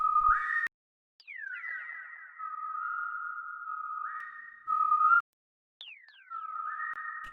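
A synthetic whistle melody of long sliding tones, gliding down then holding steady notes, with short gaps between phrases and no talking.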